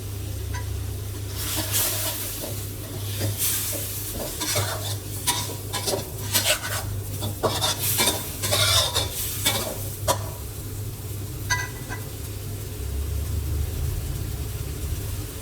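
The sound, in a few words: stirring pork ribs in simmering choo chee curry sauce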